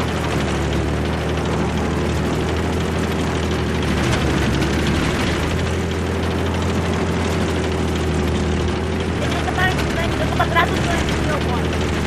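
Loud, constant rotor-and-engine drone of a helicopter running throughout, with faint clanks and game effects near the end, in Battlefield 3 multiplayer on the Caspian Border map.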